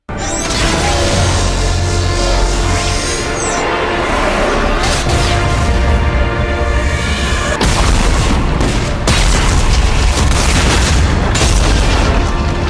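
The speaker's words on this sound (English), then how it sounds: "I'm able to fire the missile with the help of EDI, and we hit a bullseye" In the video game Mass Effect 3, a missile strikes a Reaper in a massive explosion, a loud sustained roar of booming blasts and crackling debris lasting several seconds, with sharper bursts along the way.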